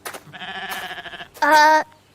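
A goat bleating in two close, loud calls, the first a long wavering bleat and the second shorter and higher with a tense, strained tone, alone without any talk.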